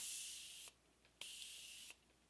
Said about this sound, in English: So I'm just going to spray this all over the face